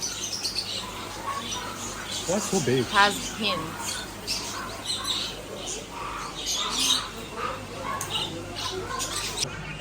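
Noisy birds at a Chinese flower, bird, insect and fish market, giving scattered squawks and chirps at moderate distance under a voice and background crowd murmur.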